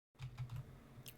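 Keys are pressed in a quick run of three or four soft clicks on a computer keyboard for media shortcuts, close up in a quiet room, ending with a faint sharper tap.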